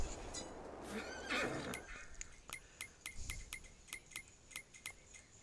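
Horses in the farming game Farming Simulator 22 neigh, with a drawn-out whinny near the start followed by a run of short, evenly spaced clicks and clops, fairly quiet.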